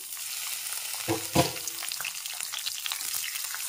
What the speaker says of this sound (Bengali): একটু নেড়ে চেড়ে ভেজে নিচ্ছি